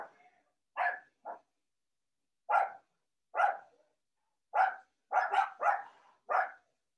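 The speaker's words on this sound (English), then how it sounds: "Dogs are going crazy." Neighborhood dogs barking outdoors, about nine separate barks in irregular bursts with gaps between, some in quick doubled clusters toward the end, moderately distant and faint with no talk.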